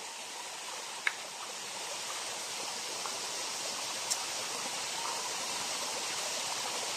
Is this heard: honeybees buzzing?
no